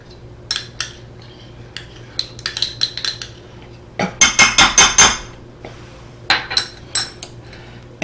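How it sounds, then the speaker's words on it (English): A utensil scrapes and clacks against a bowl as melted butter is worked into breadcrumbs, scattered taps first, then a quick run of loud, close strikes, then lighter knocks, with no talk. "we're going to mix these in well with our breadcrumbs"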